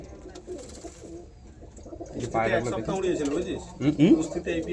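Pigeons coo repeatedly at close range, their soft throaty calls growing more prominent over the course of the clip, with people talking nearby.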